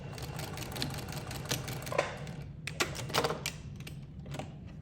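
A sewing machine stitches a flange binding onto a quilt in rapid, uneven bursts of clattering needle strokes, some runs brief and some longer, heard up close with no talking.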